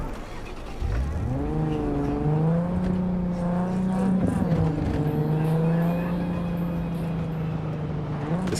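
A car driven in Cyberpunk 2077, its engine note rising and shifting through gears with a brief tire squeal, then settling into a steady hum, close and continuous.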